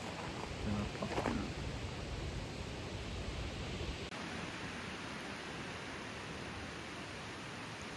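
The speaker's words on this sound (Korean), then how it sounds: "지금 대박 바람이 불고 있거든요." Strong wind in Tokyo roars steadily against the microphone, a broad rushing buffet that eases slightly halfway through and then holds constant.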